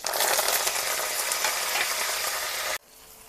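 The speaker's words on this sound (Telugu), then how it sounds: "ఇప్పుడేమొచ్చి అదే ఆయిల్లో నేను తాలింపు వేస్తున్నాను" Ginger-garlic paste, curry leaves and dried red chillies hit hot oil for tempering, giving a loud, steady, close hiss and crackle that cuts off abruptly near the end, leaving quiet room tone.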